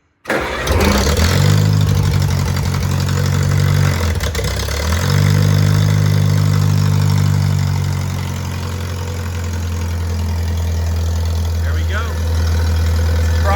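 A Farmall Cub tractor engine cranks and catches with choke and three-quarter throttle, stumbles briefly, then settles into a loud, steady low idle close by.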